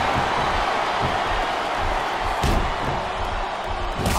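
A capacity arena crowd roars in the WWE SmackDown vs. Raw 2007 wrestling game on Xbox 360 during a Bobby Lashley versus Undertaker match, a dense, continuous cheering wall with a couple of sharp impact-like spikes.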